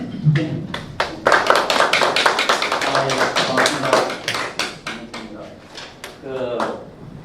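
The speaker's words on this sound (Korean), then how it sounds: "자, 다시 한번 박수 드리면서 모시겠습니다." At a formal regional development forum, a room full of people claps in a dense, close burst of applause that swells and then thins into scattered claps, with voices talking over the end.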